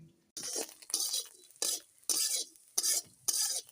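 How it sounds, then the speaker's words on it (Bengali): Small fish fry in a pan while being stirred, bursts of bright sizzling and scraping recur in a steady rhythm, close and fairly loud with short quieter gaps between strokes. "এই যে আজকে দুপুরে ছোট মাছ ভাজি করছি"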